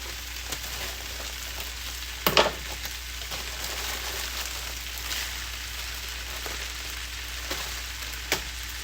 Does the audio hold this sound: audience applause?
no